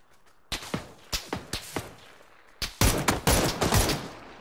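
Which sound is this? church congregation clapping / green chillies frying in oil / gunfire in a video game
gunfire in a video game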